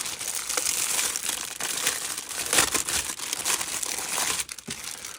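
Plastic packaging crinkles and crumples steadily while a Hatchet partwork issue of an RMS Titanic model kit is unwrapped, close to the microphone and continuous, with a sharper tear near the end and no talk.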